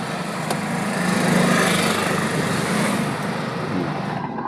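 A small car engine runs steadily nearby during a driving school lesson in India, a constant mid-pitched motor drone with no voices.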